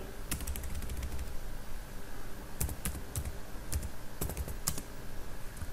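Code is typed on a computer keyboard, bursts of quick close key clicks separated by short pauses over a low steady background hum.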